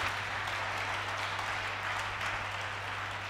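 A church congregation applauds a young groom during a service, a steady, fairly soft wash of clapping from a crowded room that continues without a break over a low electrical hum.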